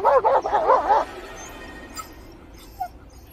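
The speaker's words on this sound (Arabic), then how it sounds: "جاي ويا الكلب شوف هذا" Dog yipping and whimpering in a seaside setting, a burst of rapid high yelps at the start, then quieter background with faint distant noises.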